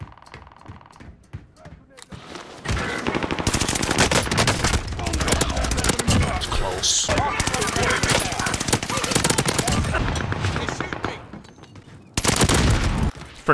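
Automaton automatic rifle firing in Warzone, long sustained bursts of rapid machine-gun fire, loud and close, with a short pause before a final burst.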